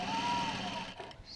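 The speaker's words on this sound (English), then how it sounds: "I'm just going to keep putting the zip in place, holding it and sewing" Stitching a zip onto denim for a rolltop rucksack, a sewing machine gives a short close whirring run that stops partway, followed by soft handling noises.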